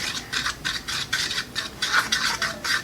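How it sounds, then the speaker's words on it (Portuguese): A fork whisks eggs by hand in a bowl while making fresh pasta dough, giving a steady run of rhythmic scraping, rubbing strokes at close range with no talking. "Vai misturando eles com um garfo mesmo."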